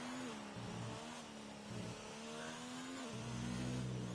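A race car in a PS4 Grand Prix game at Abu Dhabi roars steadily, its engine note stepping down sharply through aggressive downshifts and then climbing again, loud and continuous.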